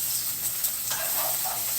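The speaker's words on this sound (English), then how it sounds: "So we get that butter frying" Butter sizzling in a hot pan before salmon is cooked, a steady soft crackling hiss that stays fairly quiet and even throughout, with no talking.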